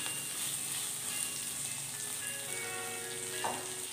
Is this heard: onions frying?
yes